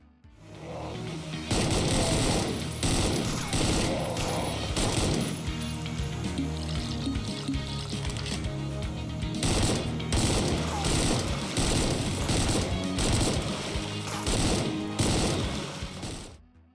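Rapid, dense gunfire rattles almost nonstop from a retro first-person shooter game, Supplice. The shots land as punchy, loud bursts over a steady backdrop of game music and noise.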